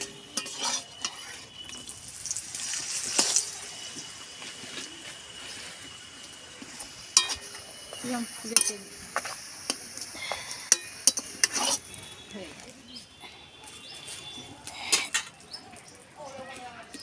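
Hing and green pea parathas frying in oil in a pan, a soft continuous sizzle broken by sharp clinks and scrapes of a utensil against the pan, with no voices.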